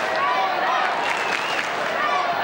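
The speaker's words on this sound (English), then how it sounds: "they've certainly got the crowd going early here at the Gabba" A large crowd at a Brisbane Lions versus Essendon AFL match at the Gabba cheers and roars in the background while a commentator talks over it.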